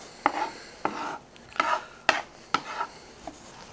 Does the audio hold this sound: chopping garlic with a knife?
yes